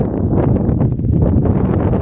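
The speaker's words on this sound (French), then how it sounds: "il y a aussi beaucoup de vent" Strong outdoor wind buffets the microphone steadily for the whole stretch, a loud low roar with constant rumble on a hot day along a pilgrimage walking route toward La Charité-sur-Loire, France.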